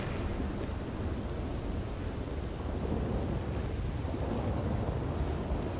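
Thunder rumbles through a storm in the Red Dead Redemption 2 video game, a steady, dense roar mixed with rain and wind that stays loud and even throughout with no clear single crack.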